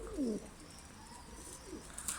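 A pigeon coos during courtship, with one short, close throaty coo at the start and a softer coo shortly after, over quiet background.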